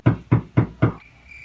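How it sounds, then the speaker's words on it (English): Four evenly spaced hollow knocks from a bathroom renovation downstairs, muffled and somewhat distant, in a quick steady rhythm with nothing else heard. "If you guys hear knocking, it's because they're redoing my bathroom downstairs."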